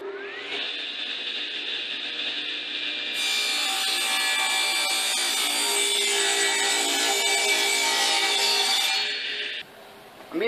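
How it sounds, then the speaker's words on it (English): A 3/4 inch wooden plank is cut through with a saw, most likely a power saw, to trim off a bad edge. The cut rings loud and close with a steady high whine that builds partway through and holds until a sudden stop near the end. "I'm going to start off by cutting this 3/4 inch piece of plank into something usable."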